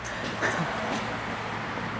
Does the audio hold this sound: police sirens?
no